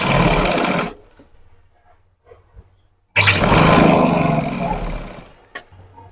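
Electric sewing machine stitching fabric for pants, two loud close bursts of fast, even motor whirring, separated by a short quiet pause with faint handling clicks.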